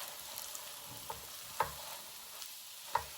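Grated provolone cheese is folded into a hot cheesesteak in a pan, giving a quiet, low sizzle with a few soft scrapes and taps of a utensil. The sound is faint, and nobody speaks.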